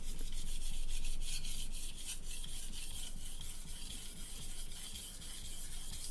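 A chef knife is drawn across a whetstone in a steady run of gritty scraping strokes, close and moderately loud, with no talking.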